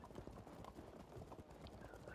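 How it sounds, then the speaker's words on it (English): Horse archers galloping in the Field of Glory 2 strategy game: faint, rapid clip-clop of many hooves blending into a soft, busy rumble, with a brief whinny near the end. "These are the horse archers."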